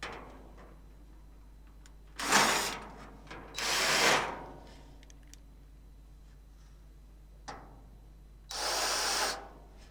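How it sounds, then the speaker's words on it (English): A power drill drives self-tapping screws into a cabinet in four short whirring bursts with quiet gaps between them, close and clear, no talking. "Now I'm going to attach 4 screws, 2 to each side, to make sure this is nice and securely fastened together."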